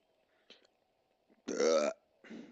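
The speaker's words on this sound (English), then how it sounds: "I keep burping into the mic" A man burps close into a microphone, one long loud belch following a short faint one and a second shorter belch after it, with near silence in between.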